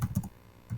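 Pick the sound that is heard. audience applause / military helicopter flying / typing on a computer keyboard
typing on a computer keyboard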